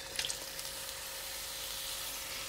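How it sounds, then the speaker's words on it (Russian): Chicken pieces sizzle loudly in a hot wok on high heat for a udon dish with zucchini, a steady close crackling fry with a few brief clinks near the start. "Первая на сковородочку отправляется курочка."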